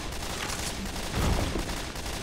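Dense crackling bursts of fireworks in the video game Left 4 Dead 2, in a fairground-like park setting, with rapid overlapping pops and a stronger low thump midway.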